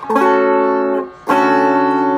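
Clean electric guitar tone from a Vox StompLab 2G on preset 35 in the blues category: a loud ringing chord that sustains, fades briefly, then a second chord struck and left to ring.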